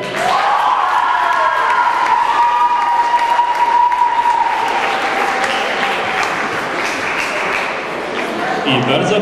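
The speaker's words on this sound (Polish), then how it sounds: "I wielkie brawa, naprawdę wielkie brawa" A school audience applauds warmly after a theatre performance at a secondary-school arts festival, loud dense clapping with some cheering that runs steadily for about nine seconds, while a voice speaks over it.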